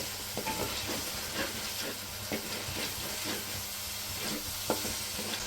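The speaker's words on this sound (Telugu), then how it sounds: "ఇప్పుడు అల్లం వెల్లిపాయ పేస్ట్ వేసేసుకోవాలి దీన్ని కూడా పచ్చివాసన పోయేంత వరకు వేయించుకోవాలి" Ginger garlic paste fries in a pan for a Rajahmundry crab curry, giving a steady close sizzle with regular scrapes of stirring throughout.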